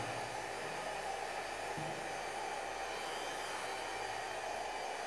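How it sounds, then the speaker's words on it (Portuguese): A hair dryer blows steadily on craquelure paint to dry it, a constant close whooshing hiss with no pauses, at moderate loudness throughout. "E eu vou dar uma secada, ó. O meu secador não é bem fraco"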